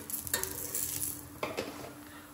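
Puran poli frying with ghee in a pan gives a steady soft sizzle with a couple of brief scraping or stirring clinks from utensils, close and moderately quiet.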